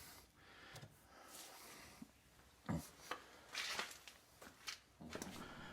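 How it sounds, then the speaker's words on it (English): Pepper plants being pruned with shears, a scattering of faint snips, rustling leaves and handling noises at irregular intervals, quiet and close with no talking. "Now while I'm pruning here in the background"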